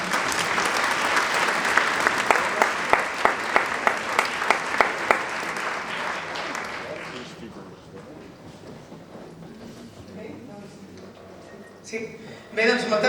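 Audience applause at a town fair proclamation event in Sant Boi de Llobregat, loud steady clapping with sharp accents that fades after about seven seconds into quieter room noise and a voice.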